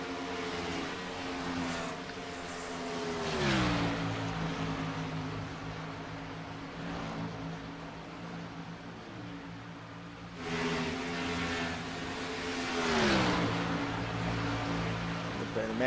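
NASCAR race cars roar past on the track at Chicagoland, two distinct pass-bys with rising and falling engine pitch, heard at moderate distance over a steady background hum.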